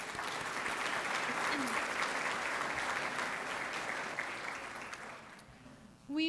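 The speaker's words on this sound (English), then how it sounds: "Let's give them a round of applause." A luncheon audience at a town chamber of commerce event gives sustained applause for the wait staff and chef, a broad, steady crowd clapping that thins out toward the end before a voice cuts in.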